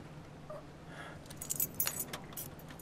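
Keys jangle in the video game Brothers: A Tale of Two Sons, a few light metallic rattles clustered near the end over a faint steady hum.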